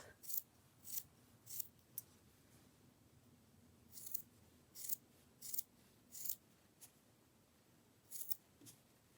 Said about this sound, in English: We'll just work around and trim those off.